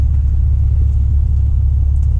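A loud, steady Detroit Diesel engine in an old truck rumbles at a low, continuous idle, deep and close, with no talk over it.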